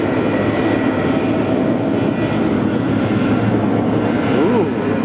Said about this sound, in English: 312 Frontier about to touch down.